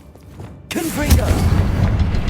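Confringo blast spell in Hogwarts Legacy bursts into a loud, close explosion after a quiet moment, sharp onset then a rumbling, crackling tail, with a voice speaking just before the blast.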